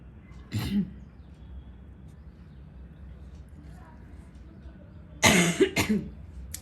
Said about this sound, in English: I cough vigorously